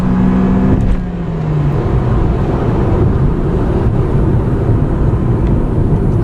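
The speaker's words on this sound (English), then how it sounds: "Getting to the acceleration of the engine, lots of noise" A 2015 subcompact car, Toyota Yaris or Honda Fit, accelerates with a loud, strained engine drone mixed with heavy road and wind roar from inside the cabin; a brief rising tone fades early and the noise stays steady and dense, with no talk.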